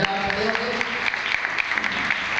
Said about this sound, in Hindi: उसके लिए भी ताली बजाएं